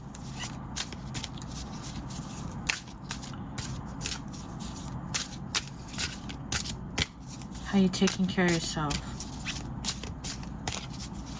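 Tarot cards shuffled and split by hand in quick repeated riffles and taps throughout, with a person speaking briefly over the shuffling partway through.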